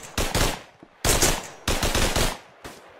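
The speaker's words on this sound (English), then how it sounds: "They're taking pot shots at the windows." Gunfire in the World War II shooter game Hell Let Loose: loud bursts of rapid automatic fire in several separate volleys, close and sharp, with brief gaps between them and no talking.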